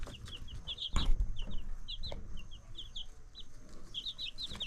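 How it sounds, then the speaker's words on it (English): Baby Red Star hen chicks cheep in rapid high peeps, several birds overlapping in irregular clusters close by, with a brief thump and soft rustling near the start. "So here are the baby chicks."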